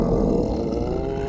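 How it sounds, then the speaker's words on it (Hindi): A hungry cartoon elf's stomach lets out a deep, loud, roar-like growl, a sustained low rumble heard on its own, with a brief brighter noise at the very end. "अच्छा, ये पेट की आवाज थी।"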